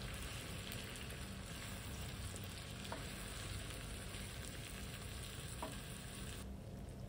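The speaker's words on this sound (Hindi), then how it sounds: "इसको भी इस चिकन के अंदर फ्राई कर लेंगे" Chicken fries in a pot with bay leaf, salt, white and black cumin and cinnamon for chicken pulao. A continuous, quiet hiss of frying carries evenly throughout, with only faint stirring.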